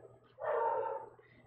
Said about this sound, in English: You can probably hear my dog soon barking.